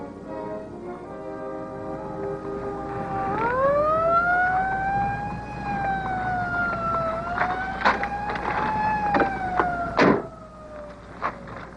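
Police car siren wailing in a rising and falling sweep, growing louder as it approaches, with thumps and brief noises over a low rumble.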